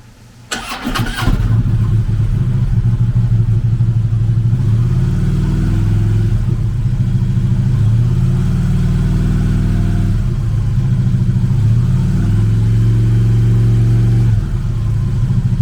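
A 2015 Harley-Davidson FLRT Freewheeler trike with a 103 cubic inch V-twin cranks and fires up, then settles into a loud, close, steady rumbling idle with slight swells in revs.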